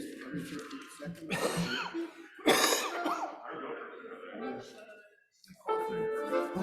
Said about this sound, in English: My coughing is slowly abating after.